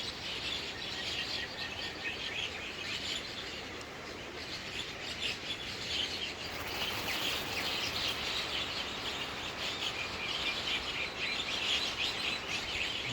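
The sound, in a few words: birds chirping and singing in a tree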